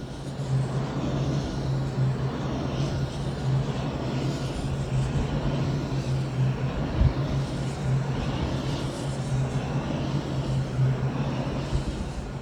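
Huge wind turbine blades turn overhead beside a far-northern scenic road, giving a steady, loud whooshing roar with a low droning hum underneath and no speech.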